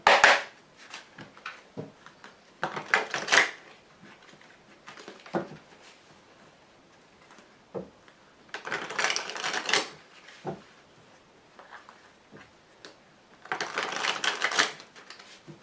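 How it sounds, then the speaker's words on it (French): Tarot cards being shuffled and laid out during a reading, giving bursts of crisp riffling and flicking at close range that alternate with quieter pauses and soft card taps. "Alors maintenant, mettons les cartes support."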